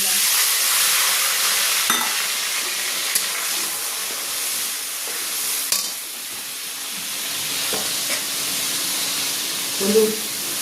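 Nigella seeds and spice mix hit hot oil in a pan, sizzling steadily up close with occasional clicks and clanks of stirring.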